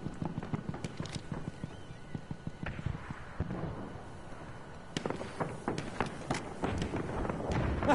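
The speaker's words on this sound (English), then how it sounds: "That's an enemy horse rider!" Hooves of a cavalry horse in Battlefield 1 clatter in a fast, irregular galloping rhythm, close and fairly loud, with scattered clicks and bangs of background action.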